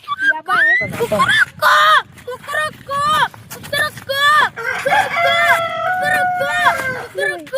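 A person imitates a rooster crowing, with several wavering, pitch-bending calls repeated loudly in quick succession, some overlapping, with voices around.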